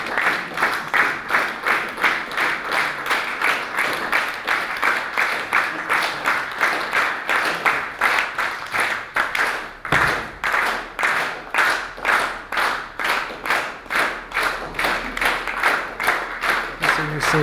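Audience clapping at a song performance, loud and in rhythmic unison, a steady pulse of synchronized claps that runs for the whole stretch with a brief stutter midway.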